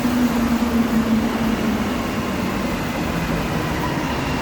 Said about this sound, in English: Might as well finish, I guess, with this train leaving here.